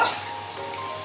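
Whole garam masala and onion paste fry in hot oil for gondhoraj chicken, giving a brief, close, steady sizzle with a slight stirring scrape at the start.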